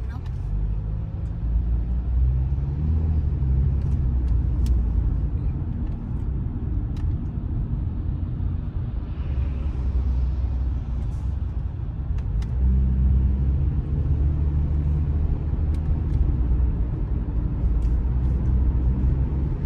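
Cars sit in a traffic jam on the road to work, making a steady low rumble of idling and slowly moving engines, with occasional louder passes. Someone talks over the traffic.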